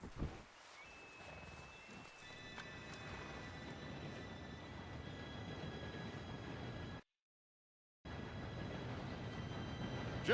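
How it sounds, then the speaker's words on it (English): In the video game Red Dead Redemption 2, a train approaches as a steady, distant low rumble with faint high whistle-like tones on top. The sound cuts out abruptly for about a second, then resumes. "Train should be here any minute now."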